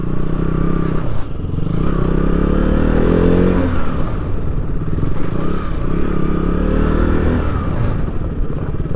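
A KTM Duke 200 motorcycle runs on a hill road with a steady engine drone and some scraping clatter, its pitch shifting as it slows and settles to be parked nearby. Nobody speaks.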